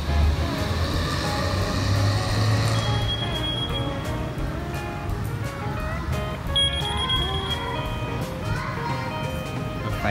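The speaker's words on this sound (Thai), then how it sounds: "รถไฟกำลังน่าจะเข้าพอดีครับ" A train pulling into Yala railway station in Thailand, with a steady low rumble and squealing wheel and brake tones sustained throughout the ten seconds, fairly loud and close.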